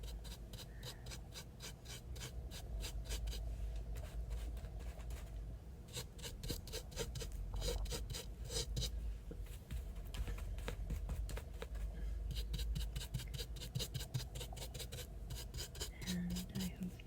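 Brush or palette knife rasping and scraping sand-textured paint across a wooden surface, a steady close-up gritty rubbing that continues with brief pauses, no talking.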